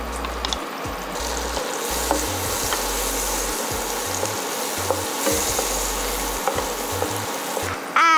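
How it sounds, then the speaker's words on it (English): Vegetables and garlic sauté in butter in a pan with a steady, close sizzle and frying crackle, plus occasional stirring scrapes and clinks, without speech. "First, we will saute our vegetables in butter."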